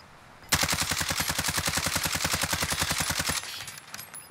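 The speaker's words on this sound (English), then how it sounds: "Shooting through tent." Automatic gunfire in Call of Duty shooting through a tent, a rapid, evenly spaced burst of about three seconds, loud and close, starting abruptly and stopping sharply with no talking over it.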